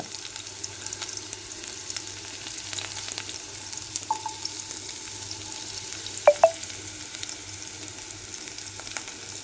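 Chopped shallots and dried red chillies frying with mustard seeds in oil, a constant soft sizzle with a few faint scrapes and two brief sharp clicks near the end.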